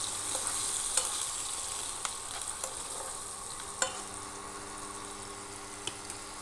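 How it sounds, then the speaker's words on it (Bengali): Tomato and ginger frying in a pan for a paneer dish, a steady low sizzle with occasional light scrapes and clicks of stirring, fairly quiet and without speech. "টমেটো আর আদাটাও ছেড়ে দেবো, দিয়ে একটু ফ্রাই করে নেব। একটু ব্রাউন হতে হবে।"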